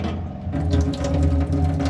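Small 12 volt water pump running, a loud, steady electric hum with a fast mechanical buzz and pulsing rhythm, close and continuous with no talking.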